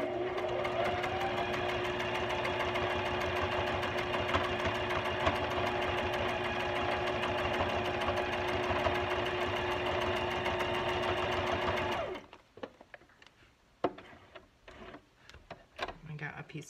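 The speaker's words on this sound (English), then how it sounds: "I'm just using a straight stitch on this, and we're just going to speedy run it in." Sewing machine running fast on a straight stitch, a loud, steady mechanical whir with a rapid chattering rhythm for about twelve seconds, then stopping abruptly, followed by quieter handling clicks and rustles.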